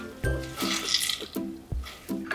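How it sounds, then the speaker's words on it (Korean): Soaked seaweed in a strainer squeezed by hand, giving a few short close splashes and trickles of water as it is wrung out, in quick successive presses. "미역이 부르면 채에 받쳐준 후 꼭 짜서 물기를 제거해주세요."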